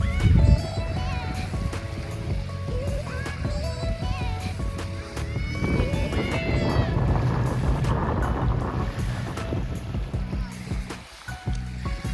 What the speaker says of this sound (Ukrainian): Сюди припливають човни, ось такі невеличкі рейсові кораблики.